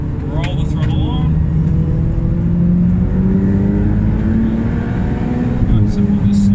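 A 2018 Ferrari 488 Challenge race car engine hums steadily and builds as the throttle is rolled on, a sustained loud drone with rising tones, while an instructor's voice talks over it throughout.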